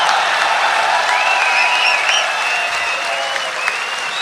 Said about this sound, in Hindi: जोरदार तालियों के साथ बुलाइएगा।